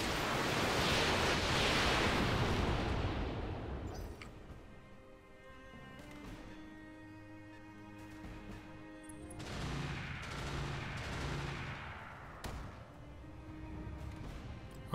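Mech weapons firing in the Roguetech battle game: a loud, dense roar of gunfire opens the sequence, then gives way to scattered blasts and rumbling impacts with sharp bursts near the end.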